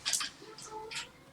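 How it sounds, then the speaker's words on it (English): A pet cat named Juicy scratches at a wavy mirror, making a few short, hissing scrapes at uneven intervals, close by and fairly faint in a quiet room. "I don't know if you can hear the cat scratching at something"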